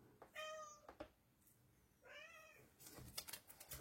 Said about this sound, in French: Vous entendez un chat miauler